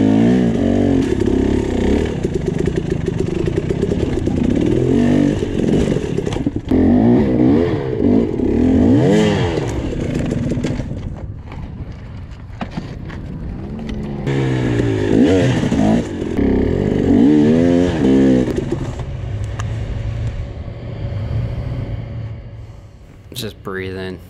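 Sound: dirt bike motorcycle climbing rocky hill in race

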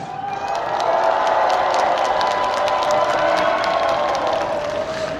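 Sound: crowd cheering

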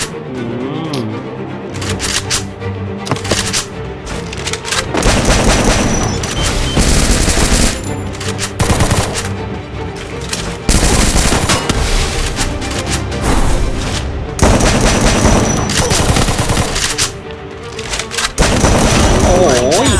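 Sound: MAG-7 rapid gunfire in Free Fire video game

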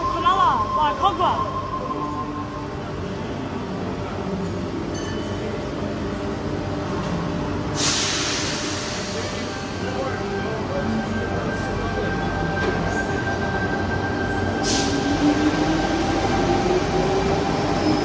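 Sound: trains departing Bondi Junction station platform

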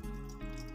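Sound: water being poured into a pressure cooker

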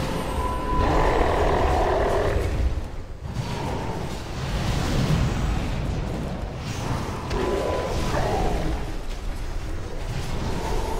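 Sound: boss enfeebling roar in a video game

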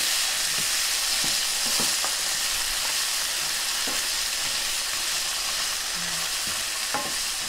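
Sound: chickpeas sizzling and being stirred in a pan

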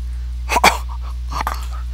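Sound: dog barking

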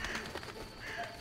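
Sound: birds in The Witcher video game

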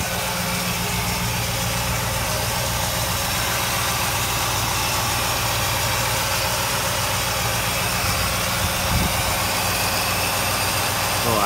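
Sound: 1969 Oldsmobile Cutlass engine idling

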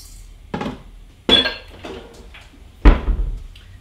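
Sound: kitchen cabinet opened to get out a proofing basket

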